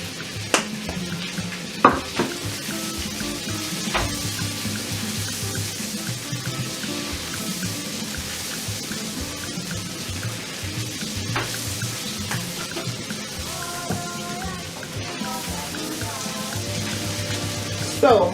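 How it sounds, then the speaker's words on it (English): King prawns in butter and garlic sizzle steadily in a pan, a constant close hiss with occasional utensil clinks and taps on the pan. "the king prawns is cooking nicely. And you can smell it with the butter and the garlic."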